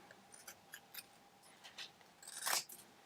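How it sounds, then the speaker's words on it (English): Scissors cutting a cheap kitchen scourer sponge in half: a series of close, crisp snips and crunchy cuts at an uneven pace, ending in one louder, longer slicing crunch in a quiet room. "I'm going to cut this in half, just like so."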